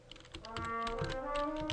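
Code being typed on a computer keyboard, a quick run of light key clicks that picks up after a brief pause, set against faint steady background tones.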